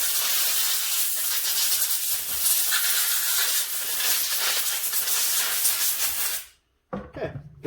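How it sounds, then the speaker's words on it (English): A loud, steady hiss of compressed air spraying down a snowblower carburetor for several seconds, then cutting off, followed by a brief softer burst. "I bring it over to my my compressed air here, and I just give her a good spray down."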